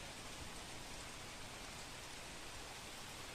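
Heavy rain pours down in Patan, Gujarat, in a dense, continuous hiss, steady and unbroken from start to finish with no other sounds.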